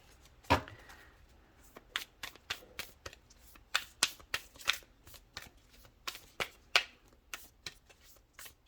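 Oracle cards being shuffled by hand, a run of crisp riffling bursts in a steady rhythm, close and fairly quiet, with no talk.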